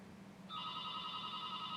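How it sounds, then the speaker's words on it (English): An office telephone rings in the background at a small law firm, a steady electronic trill starting about halfway through and continuing to the end over a low room hum, with no talking. "that's the phone in the background."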